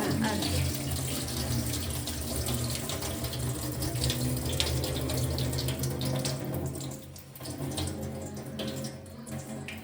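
Steady gushing of water from a tap, continuous and fairly close, with a brief dip near the end before it resumes.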